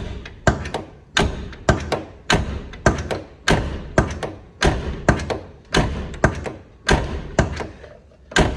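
A car's passenger door fitted with a newly installed latch is shut over and over, about fourteen solid thuds at a steady rhythm of roughly one every half second to second, each closing with a firm, close latching clunk.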